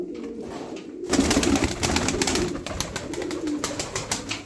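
Tumbler pigeons in a coop coo in low, rolling murmurs, several birds close by, with soft fluttering and rustling between the calls.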